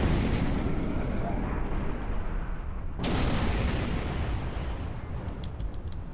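Ship weapons fire and heavy blasts fill a space battle in the video game Star Trek Online, a dense continuous rumble with a sharp booming burst about halfway through and faint pings near the end.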